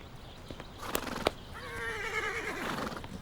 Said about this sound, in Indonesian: Seljuk, ini adalah kuda liar.